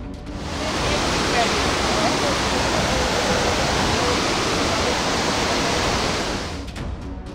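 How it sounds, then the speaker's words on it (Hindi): Floodwaters of the Mandakini river at Rudraprayag roar in a steady, loud, broadband rush that holds constant throughout and eases slightly at the end, with no talk over it. "ये देखिए रुद्रप्रयाग में मंदाकिनी नदी का रौद्र रूप।"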